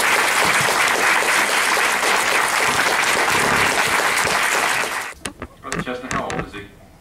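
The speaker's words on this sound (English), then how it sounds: "By the round of applause, healthy round of applause we might add" A church congregation gives a healthy round of applause for a six-year-old boy's first Bible reading, a loud dense burst of clapping that lasts about five seconds, then breaks off into scattered claps and murmuring voices.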